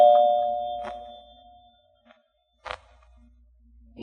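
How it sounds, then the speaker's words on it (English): Doorbell chime in a radio drama, a decaying two-tone ding at the start followed by quiet gaps, a sharp knock-like thump and another hit at the end. "Now, where's that doorbell?"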